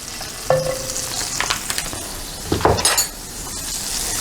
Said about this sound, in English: Let it sizzle a little bit.